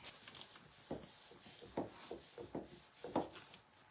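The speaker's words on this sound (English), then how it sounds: "So I'm gonna sand that down." Sandpaper rubbing over a wooden fall sign, a series of short scratchy strokes in an irregular rhythm, close and fairly quiet, with no talking.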